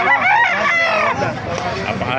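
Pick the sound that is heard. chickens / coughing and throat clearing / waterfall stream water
chickens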